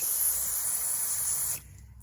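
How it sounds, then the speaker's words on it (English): Cleaner sprayed from a can into a stuck Shimano Dura-Ace 9000 11-speed bicycle shifter, one continuous close hiss lasting about a second and a half before cutting off abruptly. "what I want to do is just spray this stuff in here just so we can get this cleaned up"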